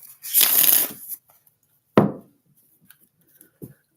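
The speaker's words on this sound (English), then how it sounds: "So we got one more deck to shuffle up." A tarot card deck is shuffled: a dense riffling burst in the first second, then one sharp slap of cards and a few faint taps and rustles, close and quiet, with no one speaking.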